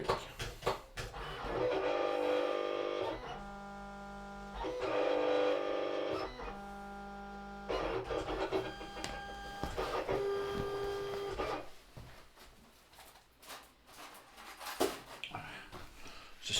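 A Silhouette Cameo cutting machine runs in repeated whirring passes, motor tones rising and falling as the carriage moves, with brief pauses and soft clicks between strokes, close and fairly quiet.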